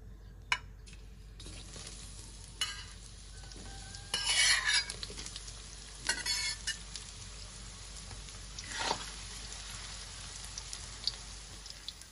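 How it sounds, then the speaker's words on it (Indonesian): Tempeh sizzling in hot oil with a constant fizzing hiss, broken by scraping stirs and a few clicks of a utensil against the pan. "Kita mulai dulu dengan menggoreng tempenya."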